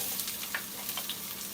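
Minced ginger, garlic and onion stir-fry in a hot pan, a steady close sizzle with small crackles and stirring, brief and continuous without talk.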